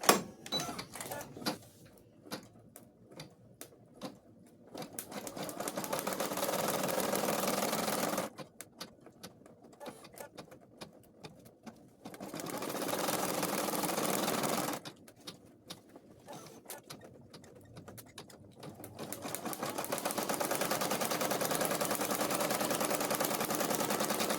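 A home embroidery machine stitches the ears of a beginner cloth doll, running in rapid, loud mechanical bursts of several seconds each, separated by quieter pauses of clicks and shuffling.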